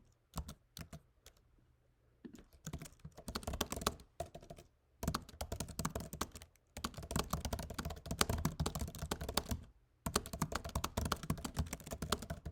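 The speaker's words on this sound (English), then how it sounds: "that's some very bad typing." Close-up typing on a computer keyboard in quick, uneven bursts of key clicks and thunks, broken by short pauses.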